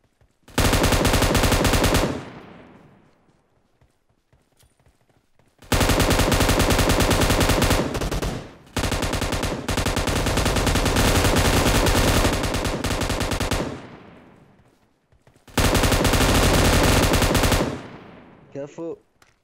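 Heavy automatic gunfire in an online shooter video game: four long, loud, sustained bursts with near-silent gaps between them.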